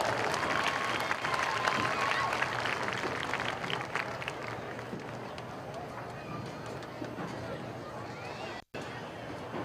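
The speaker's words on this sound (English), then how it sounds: "would you give these riders, these experienced trainers, a nice round of applause?" A crowd at a horse show applauds steadily, dense clapping mixed with cheers and murmuring voices, gradually thinning toward the end.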